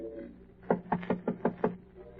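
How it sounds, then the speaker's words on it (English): Six firm, evenly spaced knocks on a door ring out clearly in a quiet interior, a sound effect from a 1948 old-time radio drama. "Then he knocks."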